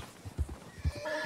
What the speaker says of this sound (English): And the horse is freaking out.